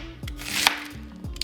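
A knife chops vegetables on a cutting board at home, a few soft, uneven cuts heard close up within a quiet kitchen.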